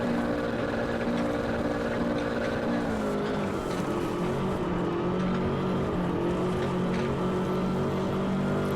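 The engine of a rally car in Richard Burns Rally drones steadily and loudly throughout, its pitch bending gently as it holds high revs through a stage, with no voices over it.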